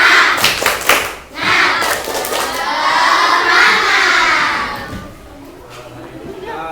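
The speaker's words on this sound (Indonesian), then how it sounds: "Oke, tepuk semangat." A classroom of children doing a rhythmic 'tepuk semangat' clap chant, with bursts of claps and shouted voices up front, then sustained loud group chanting that tapers off.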